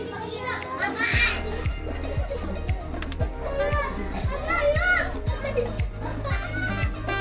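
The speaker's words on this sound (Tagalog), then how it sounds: "Ingay ng mga bata." Children playing nearby, a lively mix of shouts and chatter from kids, with a rhythmic low thumping beat running underneath throughout.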